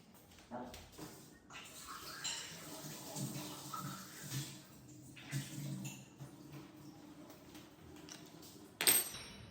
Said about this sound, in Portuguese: Então, só enxaguei, vou secar um pouco agora esse potinho também.